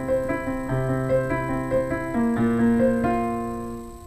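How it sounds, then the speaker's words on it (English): Piano playing the chord change in a song, with sustained chords shifting about every half second to a new voicing around 2.3 s, solo and close with no talking. "the chord change sounds like this."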